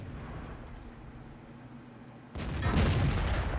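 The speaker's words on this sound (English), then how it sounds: "Just watch where some of these shots go." Tank gun shots in the World of Tanks video game: a quiet rumbling lull, then a sudden loud blast that rolls into sustained booming and crackling for about a second before tailing off.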